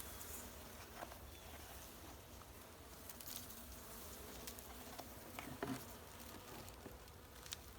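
Honeybees swarm and buzz around a heavy beehive box as a feeder is set on top of the cluster, a dense, steady insect drone filling the whole scene up close, with a few soft knocks and shuffles.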